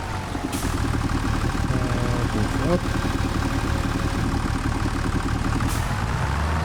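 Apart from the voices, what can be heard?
tractor engine running in the video game Farming Simulator 25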